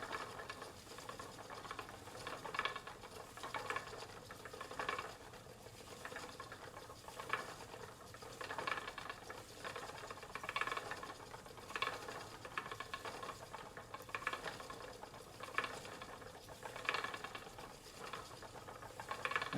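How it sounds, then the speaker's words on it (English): A vintage Castle spinning wheel spins wool with a soft rhythmic whirring and clicking treadle pulse, repeating about every second, close and fairly quiet with no talk. "this is a really good wool spinning wheel"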